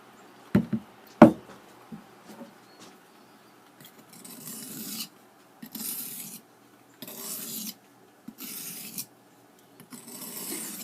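A knife handle on a saw blade knife sanded with 100 grit sandpaper: two sharp knocks, then repeated rasping strokes in bursts of a second or so separated by short pauses, close and moderately loud.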